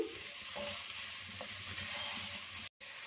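Spices being stirred together in a pan for a samosa potato filling, a steady close sizzle and frying hiss with faint scraping, broken by a brief drop near the end, no voices.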